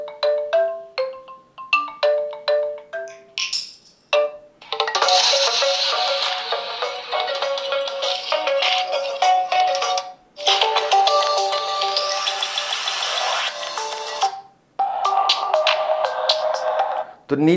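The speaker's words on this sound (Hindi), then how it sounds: "यहाँ पर थोड़ा रिंगटोन वगैरह चलाकर देख लेते हैं कि स्पीकर की कैसी क्वालिटी मिलती है" A ringtone melody plays loudly through the single speaker of a Decode Signal 3 phone, with bright tonal notes in quick bursts, then a sustained busy tune that pauses briefly and resumes.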